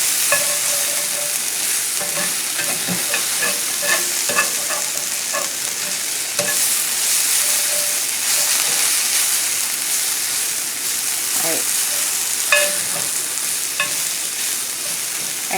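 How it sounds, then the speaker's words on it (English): Vegetables sauté in a pan with a constant, loud, close sizzle, broken by occasional stirring scrapes and soft clicks over nearly sixteen seconds. "back to the vegetables that are sauteing"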